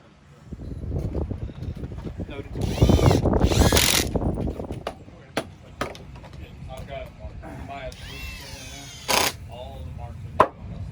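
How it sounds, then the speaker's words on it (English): Ratchet strap cranked tight around dock pilings on a custom marine dock build in Pensacola, Florida, giving metallic clicking and ratcheting bursts over outdoor wind and work noise, with someone talking throughout. "You can see here we've got a ratchet strap around the pilings"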